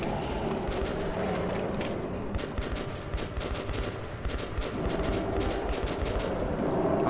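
In the video game Metro 2033 Redux, gunfire crackles in dense bursts. The rattling volleys sit over a thick, steady wash of in-game ambience and do not let up.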